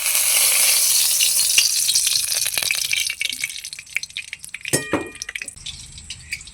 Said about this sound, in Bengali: আলু ভাজা তেলে আবার তেল দিয়ে দিচ্ছি